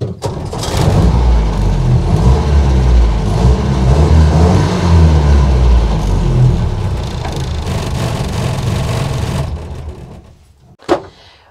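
A Land Rover Series One engine runs with a steady, rough rumble, heard from behind the vehicle, close by and loud, then cuts off, followed by a single sharp knock.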